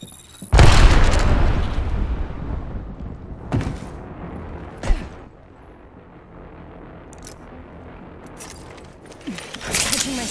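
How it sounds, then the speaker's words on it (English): A grenade blast in the Apex Legends solo mode, with a loud boom near the start followed by a few sharper pops and bursts over a quieter background of game sounds. "Grenade."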